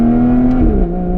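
An Aston Martin Vanquish S Volante on its stock exhaust revs hard, a loud, close engine note holding steady before dropping in pitch as the revs fall away.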